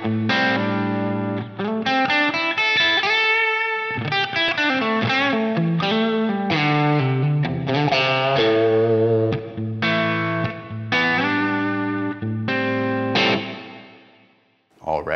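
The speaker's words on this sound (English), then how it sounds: "I'll go with a hall reverb, let's say, and I'll crank it up fairly high here and give us a fairly good mix, put the trails on." An electric guitar played through a Line 6 Helix with a hall reverb set high rings out in sustained chords and notes, with long washy trails that decay into silence near the end.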